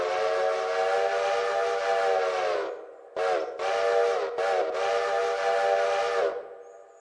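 A steam locomotive whistle in the Railroader game blows loud and close, one long sustained blast followed by a few shorter quilled toots, its chord-like tone rising and falling as it is worked.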